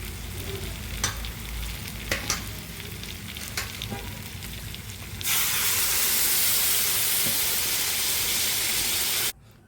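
Ground masala paste and its rinse water poured into a hot pan while cooking stuffed brinjal, first a few scrapes and clinks of stirring, then a sudden loud, steady sizzle and hiss of steam that cuts off abruptly.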